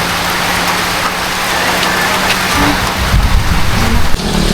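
A sudden heavy downpour hisses down steadily and loudly, with a low rumble that could be distant thunder and the rain growing harsher toward the end.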